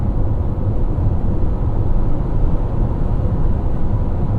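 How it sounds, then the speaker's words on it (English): Constant low roaring wind noise from roof crossbars on a 2022 Toyota RAV4 Prime in motion, loud and unbroken throughout. "listen to how loud these crossbars are. They're very loud."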